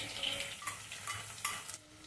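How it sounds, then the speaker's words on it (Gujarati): Roasted garlic drops into a sizzling tempering of cumin, ajwain and asafoetida, with steady frying hiss broken by a few clinks and stirring scrapes of a spoon against the pan. "આ રીતે વઘાર તૈયાર થાય એટલે આપણે જે લસણ શેક્યું હતું ને એ લસણ એડ કરી દેવાનું"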